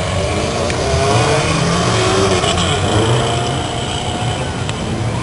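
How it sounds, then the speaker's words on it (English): Rally car at an Oregon Trail Rally stage start, its engine noise steady and fairly loud throughout, passing near without a clear peak, with broadband roar and no voices. "Car's coming back here."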